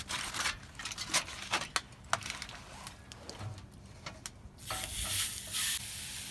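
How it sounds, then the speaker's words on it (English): Tri-tip reverse searing on the grill grates of a Pit Barrel Cooker, a crackling sizzle broken by sharp clicks and taps of tongs on metal, then a louder burst of hissing toward the end. "We got our grill grates on, and we're going to go ahead and do our reverse sear."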